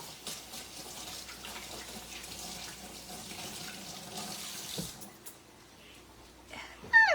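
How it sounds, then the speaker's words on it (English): Tap water running steadily into a sink while fingers are rinsed beneath it, a soft continuous splash that cuts off near the end, followed by a brief clatter. "Let me just rinse my fingers."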